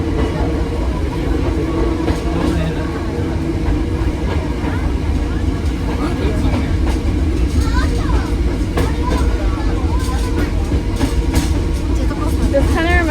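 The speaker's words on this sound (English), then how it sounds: "You can show him us in the train going up the mountain." A Hakone switchback train climbing a mountain, its steady low rumble and rolling rattle running throughout while people talk over it inside the carriage.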